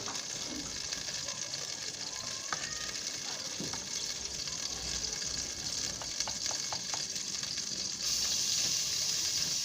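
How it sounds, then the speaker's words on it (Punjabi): Ginger and garlic fry in oil as a tempering for Punjabi-style village saag, a continuous close sizzle with a few faint clinks of a stirring utensil, growing brighter and louder near the end. "ਅਸੀਂ ਅਦਰਕ ਥੂਮ ਦਾ ਲਾਉਣ ਲੱਗੇ ਤੜਕਾ।"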